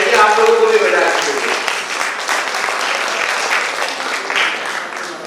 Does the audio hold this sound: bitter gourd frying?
no